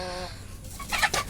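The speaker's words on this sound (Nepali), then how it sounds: "यो सुत्केरी कुखुरा मेरो पछिको पालेको होइन" A mother hen with young chicks and a rooster on a farm give a brief burst of clucking, a tonal call first and then a few sharp, close clucks.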